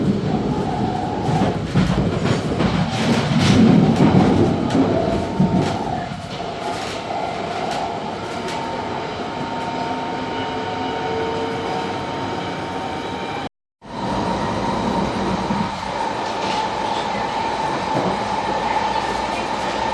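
A London Underground train roars steadily through a tunnel, with rumbling wheels, rattling carriages and faint rhythmic clacking over a constant loud drone, broken by one brief dropout.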